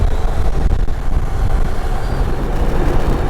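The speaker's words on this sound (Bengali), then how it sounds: "জঙ্গলের ওপর দিয়ে যাচ্ছে আর পাশ দিয়ে মাল গাড়ি যাচ্ছে" A goods train rolls past beside a road through forest, a loud, close, continuous rumble heard over riding noise for a few seconds, with no talk.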